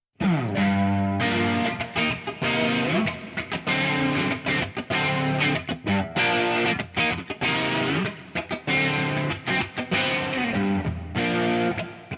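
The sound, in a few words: electric guitar with saturation effect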